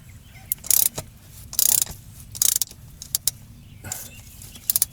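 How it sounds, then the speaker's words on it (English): Ratchet clicking in short bursts while loosening the HST filter on a Kubota B2650 tractor, sharp close ratcheting rasps separated by pauses, with faint mechanical background. "That's loosening. We get this bad boy loose first off."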